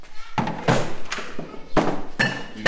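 Several sharp metallic thunks of a hammer striking a greased axle part land in uneven succession, close by, with short pauses between the blows.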